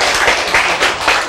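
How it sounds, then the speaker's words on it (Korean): A church congregation claps together in a short burst of steady, fairly loud applause that swells in a few pulses, with no talking over it. "박수 한번 치세요, 여러분"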